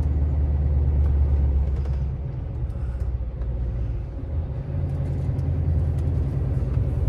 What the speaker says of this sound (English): To put his foot down in the car.